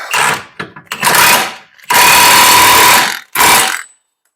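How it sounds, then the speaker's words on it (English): A power impact tool tightens the axle nuts on the rear sub-frame of a 2007-2017 Jeep Patriot or Compass. It fires in several loud, close bursts, with short gaps between them and a longer sustained run in the middle. "Don't forget to tighten up your axle nuts."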